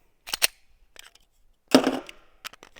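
Handgun shots fired at a target at about 16 yards during a controlled-pairs drill, heard as a few sharp, separated cracks with quiet gaps between them.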